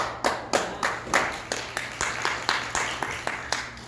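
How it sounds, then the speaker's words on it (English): Scattered audience clapping in a university lecture hall, a handful of hands beating in a loose, steady rhythm, fairly quiet and thin rather than a full ovation. "I think you all deserve a applause."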